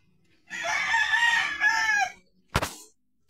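A fighting rooster crows once, loud and drawn out, outdoors among other fowl, followed by a short sharp knock.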